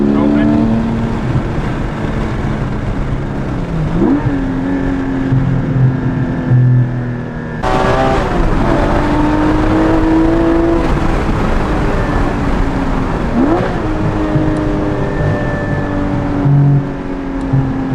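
A Porsche GT4 fitted with a Valvetronic Designs exhaust with over-axle pipes revs repeatedly, the loud engine rising and falling with a sharp jump in volume and brightness partway through as the exhaust valves open.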